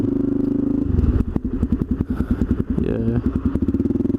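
A Suzuki DRZ400E dirt bike's single-cylinder engine idles with a steady, loud thumping pulse, then blips into rapid uneven revs with clattering mechanical knocks, settling back toward a lumpy idle, close to the machine.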